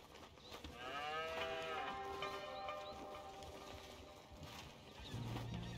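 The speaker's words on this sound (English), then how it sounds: "Here's the cows." Cattle mooing on a ranch in Red Dead Redemption 2, a drawn-out low moo rising and falling over several seconds, followed by further lowing from nearby cows amid soft ambient farm noise.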